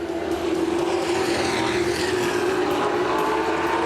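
Late model sportsman race cars roaring around Winchester Speedway, a steady loud engine drone with a sustained pitched whine and faint rising tones as cars pass, no voices.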